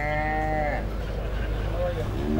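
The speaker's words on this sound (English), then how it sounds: "This is the junior cow, property of Paddy and Elaine Hinnerly, all the way from Russell Point in County Sligo" A cow lowing at an agricultural show's cattle championship, a drawn-out moo sounding close and fairly loud over a steady crowd murmur, followed by a second shorter call near the end.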